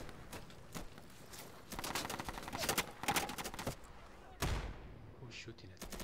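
Gunfire in the video game Insurgency cracks out in rapid bursts aimed at the player, with clusters of sharp shots and a louder close blast near the end, with a voice talking faintly in places.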